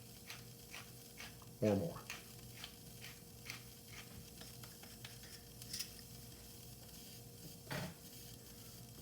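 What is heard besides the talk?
freshly grinding black pepper with a pepper grinder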